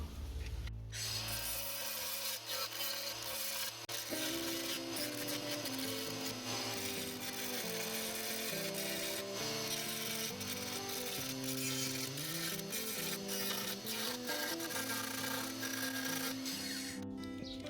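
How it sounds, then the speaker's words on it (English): An angle grinder works continuously on a plastic mudguard from a Suzuki Let's 4 scooter, a loud, sustained grinding whine whose pitch rises and falls as the load changes, cutting off abruptly near the end. "We'll need to take a grinder and grind that flat now."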